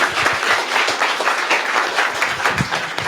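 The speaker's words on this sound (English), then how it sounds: "Big applause." A startup pitch competition audience applauds with dense, continuous clapping at moderate loudness, steady throughout and with no voices above it.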